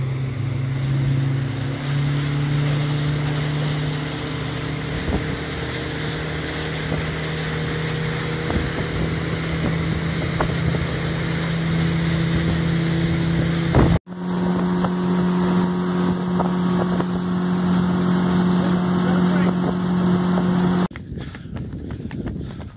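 A speedboat engine on an Italian lake drones steadily with a loud, constant hum over rushing water and wind, continuing for the whole stretch with a brief cut midway.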